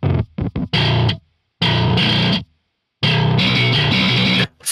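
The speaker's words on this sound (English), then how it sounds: "So that's what we're hearing right now, but this is not all of this distortion actually." Heavily distorted metal bass tone in a brutal thall style, played in loud, choppy bursts separated by abrupt silences, with a thick, saturated low end and a gritty high edge.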